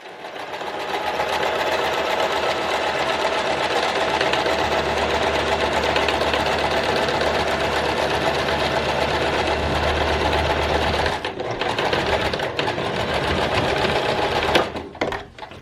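Sewing machine running steadily while stitching the edge of a zippered fabric pencil pouch, a loud continuous mechanical whir with a low hum that stops briefly near the end.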